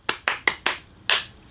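Five crisp hand claps, close and alone: four in quick steady rhythm, then a short gap before a final clap.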